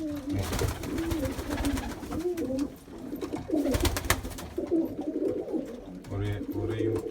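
Pigeons coo in a yard during rain and snow, a steady run of low, throaty calls that overlap and repeat. A voice talks intermittently over the birds.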